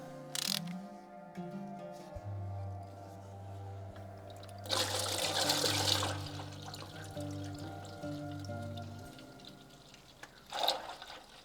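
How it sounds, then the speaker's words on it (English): Transmission oil drains from a Volvo gearbox with a steady trickle and pour that swells partway through, quiet and close, over a low background hum, with no talking. "We'll loosen that as well and let the oil drain."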